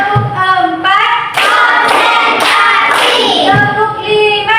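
A group claps rhythmically in changing patterns on command, sharp hand claps mixed with loud voices chanting and shouting along throughout.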